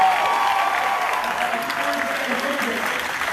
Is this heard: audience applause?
yes